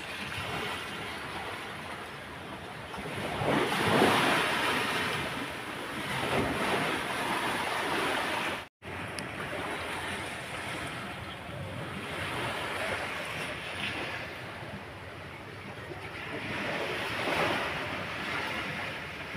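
Steady wind rushes and buffets the microphone for the whole stretch, swelling and easing in waves, with a brief dropout midway and no talking.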